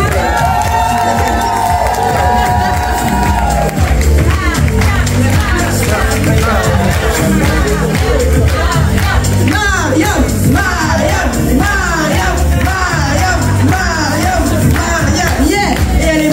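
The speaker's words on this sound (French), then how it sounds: "Applaudissez-la s'il vous plaît." A large seminar audience in Paris cheers and whoops loudly, with excited shouting and busy babble continuing throughout, close and sustained.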